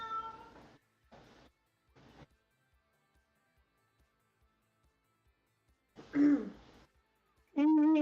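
A pet cat meows twice in clear, close bursts near the end, after a few short spoken phrases in a quiet room.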